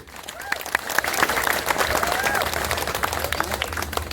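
Crowd applause at a calonarang temple performance at Pura Dalem Tarukan in Pejeng, clapping swelling and holding steady with some voices mixed in beneath.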